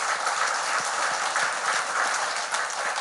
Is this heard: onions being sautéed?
no